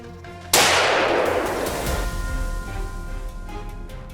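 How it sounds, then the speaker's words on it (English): A single loud, close hunting gunshot fired at a wild boar in Louisiana, its sharp crack followed by a long echoing decay that fades over several seconds. "take the shot"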